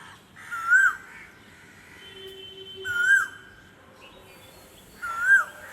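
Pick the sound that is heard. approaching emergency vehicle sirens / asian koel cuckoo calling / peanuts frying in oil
asian koel cuckoo calling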